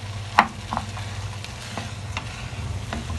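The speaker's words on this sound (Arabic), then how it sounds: "بس هنديله تشويحه كده. نزلنا بقى بقيه الرز كله البسمتي." Basmati rice stir-fried in a pan for seafood paella: a sharp metallic scrape rings out early, followed by a few lighter scrapes over a soft, steady sizzle, with no talking.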